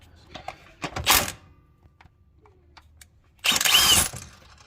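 A bolt is being removed from a Honda Pilot engine near the timing cover. Two separate bursts of gritty, rattling tool noise stand out against near silence, with small clicks scattered between them.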